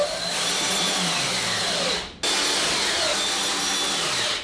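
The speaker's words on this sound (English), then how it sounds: "Now I'm going to secure it down with some stainless steel screws." Power driver sinking about ten stainless steel screws to fasten a lid inside a cargo trailer ice house conversion, a loud steady whirring run that cuts out briefly midway and then resumes, with no talking.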